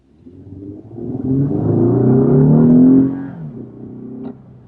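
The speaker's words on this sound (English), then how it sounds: "it actually kicks up that exhaust note that you don't have all the time" A 2015 Lexus IS350 engine revs up into a deep, swelling exhaust rumble, peaks, then drops back to a lower idle-like drone.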